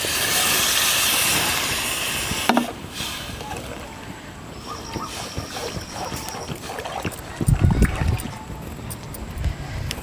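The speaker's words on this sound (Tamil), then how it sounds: "குழம்பு நல்லா கொதிக்க ஆரம்பிச்சிருச்சு." Egg kuruma curry simmering in a pan, giving a steady close bubbling hiss with a few louder pops and sputters, no talk.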